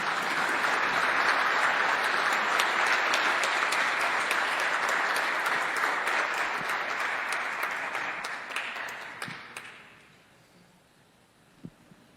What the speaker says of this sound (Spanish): Les pido por favor un aplauso para Alfonso Romo.